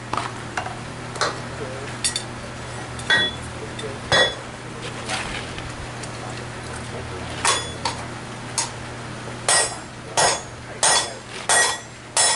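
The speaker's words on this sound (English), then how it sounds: "As you hammer, the bowl is going to make a different sound." Sharp metallic strikes ring out one after another as a metal bowl is hammered on a swage block, irregular at first then a quicker run of blows near the end, over a steady low hum.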